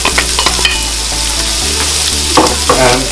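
Spring onions frying in a pan for arroz caldo, a loud close sizzle with scraping stirs and clinks of a utensil against the pan.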